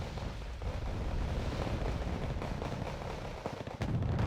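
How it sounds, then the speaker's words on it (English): Mortar fire in the real-time strategy game Wargame: Red Dragon, shells landing on infantry: a continuous loud rumble of dense explosive thuds and crackling impacts, with a slight dip near the end before the barrage resumes. "these mortars are firing again onto that infantry"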